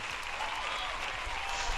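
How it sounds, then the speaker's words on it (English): A round of applause from a small audience on a casual comedy show, a steady wash of clapping at moderate loudness, with a voice or two faintly mixed in beneath it. "let's have a little fucking round of applause"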